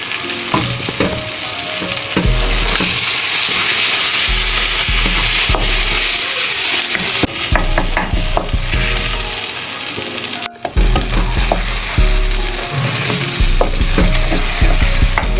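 Goat brain frying in a pan, a loud close crackling sizzle throughout with repeated clattering stirs and scrapes of a utensil against the metal, briefly dropping out near the middle before resuming.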